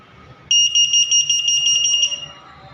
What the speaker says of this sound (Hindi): इसमें बजर भी बजेगी और ये लाइट भी फ्लैशिंग भी हो रही है